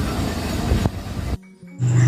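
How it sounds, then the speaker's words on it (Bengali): Train pulling into a station, a loud broadband rumble of wheels and carriages, then a brief quieter gap before a steady tonal hum with high whine resumes near the platform. "ট্রেন ঢুকে গেছে"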